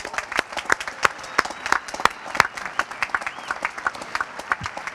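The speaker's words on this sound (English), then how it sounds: "A round of applause for our seniors." A sparse audience at a high school graduation ceremony claps for the graduating seniors, producing scattered, distinct hand claps at an uneven rhythm, fairly near and moderately loud, without any talk.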